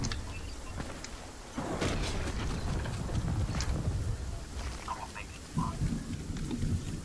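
The storm in the Fortnite video game roars as a dense, steady wash of rain-like noise with low rumbling, loud and continuous, a swell near the start and a few brief sharper game effects.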